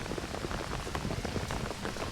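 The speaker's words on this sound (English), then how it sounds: "right now it's just about as hard as it's been raining in the last 25 minutes" Heavy rain pours down steadily during an outdoor pro lacrosse game, a dense, even hiss of drops hitting surfaces with no voices over it.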